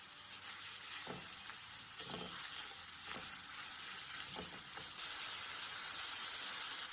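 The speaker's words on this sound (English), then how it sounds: "Saute the meat." Meat sautés in a pan with a continuous close sizzle. Several short scrapes of stirring come through, and the frying grows louder toward the end.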